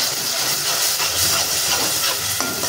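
Tomato and chili paste hitting hot oil in a pan for dhaba-style mushroom masala, giving a loud, steady hissing sizzle throughout with no talking.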